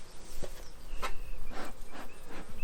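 Honey bees buzz around an open hive during a mid-July inspection, a close, fluctuating drone with individual bees flying past near the listener in short swells.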